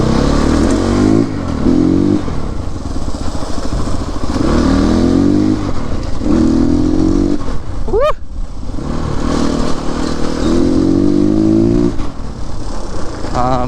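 A new CrossX300 motorcycle being ridden, its engine revving up and easing off in repeated surges with a steady rumble throughout, and one sharp rising whine near the middle.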